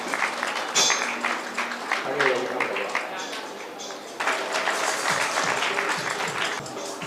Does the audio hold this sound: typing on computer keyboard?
no